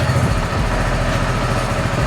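A motorcycle engine idles close by, a low, steady throbbing pulse with a rapid regular beat and strong vibration, running unchanged for the whole stretch with no voices.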